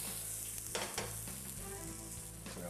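Onions sizzling in a frying pan, a continuous loud crackling hiss with some stirring and scraping, close up.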